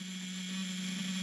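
A steady electronic buzzer on a sailboat's engine panel warns of no oil pressure, sounding continuously at an even pitch with a faint hum beneath it and no pauses.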